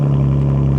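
A BMW M2 with a modified exhaust sits idling close by, giving a steady, loud low drone with a strong constant hum and no revving.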